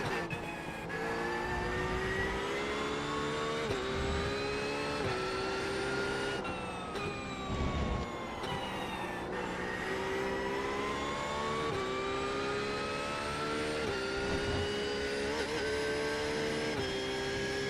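A Porsche GT race car engine from the iRacing sim game drones continuously for the whole stretch, shifting pitch as it revs up and down through gear changes, loud and steady.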